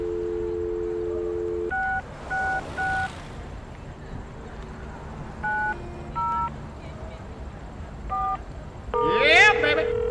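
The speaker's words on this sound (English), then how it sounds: "You pick up the phone, and to your delight, you get a dial tone." A steady telephone dial tone is followed by several short clusters of touch-tone dialing beeps in the point-and-click game Leisure Suit Larry: Reloaded (2013), ending in a brief electronic warble; no one speaks.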